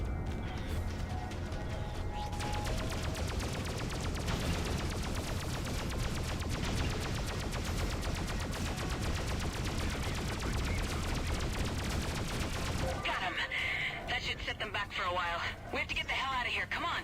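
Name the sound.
gunfire from ships in the video game Freelancer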